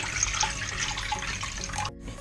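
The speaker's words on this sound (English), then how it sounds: "First, add your water," Water poured into a pot to start an anchovy and kelp broth for tteokbokki, a steady close splashing stream that cuts off abruptly near the end, no voices.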